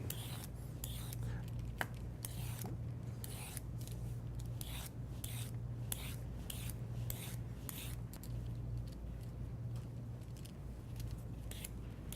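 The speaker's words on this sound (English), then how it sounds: "Let's start with a carrot. Begin by peeling it." A carrot is peeled in a kitchen, giving quiet, steady scraping strokes in a regular rhythm of about a dozen passes, close up with no talking.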